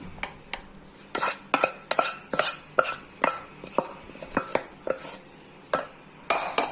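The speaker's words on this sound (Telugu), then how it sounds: "చింత చిగురు వేసుకొని ఇప్పుడు కొంచెం నిదానంగా దంచుకోండి" Dried red chillies and tender tamarind leaves pounded by hand in a stone mortar for a rustic chutney, giving a steady run of sharp, close knocks with an uneven rhythm and no talking.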